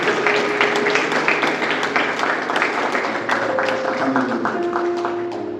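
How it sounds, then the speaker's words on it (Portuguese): A church congregation applauds for Jesus, a dense, steady wash of clapping from many hands with some voices mixed in. "Você pode aplaudir a Jesus."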